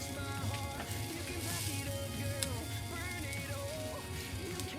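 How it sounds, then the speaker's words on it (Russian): Lavash filled with cheese fries in a pan with a steady, even sizzle that holds at low volume throughout, with a faint tonal background underneath. "Затем переворачиваем на другую сторону и пусть немножко еще поджарится"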